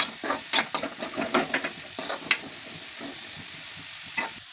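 Carrots sizzle and fry in a pan for egg fried rice, giving soft crackling pops and intermittent stirring scrapes, fairly quiet, with no talking.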